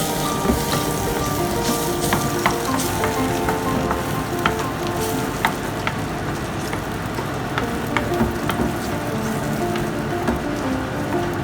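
Eggs for fried rice sizzle and fry in a hot pan, a steady crackling hiss with frequent sharp pops and spatters and occasional stirring, close and fairly loud throughout with no talking.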